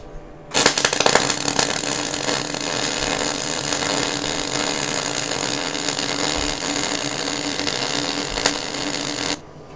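MIG welding with solid core wire and shielding gas gives a steady, loud crackling buzz that starts abruptly, runs unbroken for about nine seconds, then cuts off.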